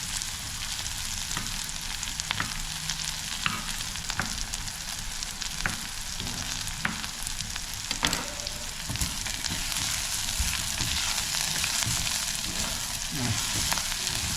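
Green chillies fry in a hot pan with a continuous crackling sizzle, punctuated by sharp scrapes and clicks of a utensil stirring them, steady and close throughout.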